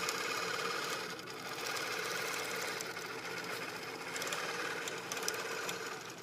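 Innova long-arm quilting machine stitching cording with a steady, continuous mechanical whirr, moderately loud and unbroken throughout, without speech.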